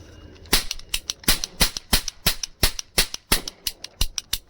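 A Diwali toy cap gun fires a rapid series of about sixteen sharp, loud cracks in quick, slightly uneven succession, close by with no voices.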